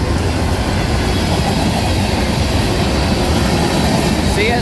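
A CPKC southbound manifest freight led by CP 8866 with four locomotives rolls past in Mansura, Louisiana, a loud, steady rumble and rail roar lasting throughout with no break, plus a faint squeal near the end.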